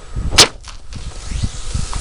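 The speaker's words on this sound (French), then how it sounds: "Et là, au bout de quelques petites secondes, on met le canon et on tire." A homemade chemical potato cannon fires indoors in a living room with a single sharp, loud bang, followed by low thumps and rattling.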